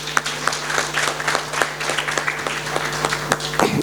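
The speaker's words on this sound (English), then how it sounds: "could you just give a round of applause for yourselves?" Audience applause at a one-to-one gathering, dense steady clapping from a nearby crowd with a low hum beneath, holding through to the end.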